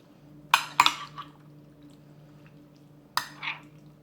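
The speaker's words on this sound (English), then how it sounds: "I'm going to give this a gentle stir" A spoon stirs shrimp chow mein with veggies in a microwave dish, making a few light scraping and clinking knocks, two close together and then a later pair, over a faint background hum.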